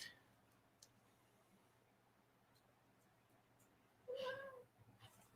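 A cat gives a single short meow near the end, fairly close, after a long stretch of quiet room tone with faint ticks.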